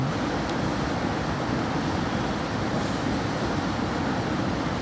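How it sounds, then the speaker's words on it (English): A river in Nord-Troms, Norway, gives off a steady broadband roar, continuous and fairly close, with a dense low rumble and no voices. "That's the river noise?"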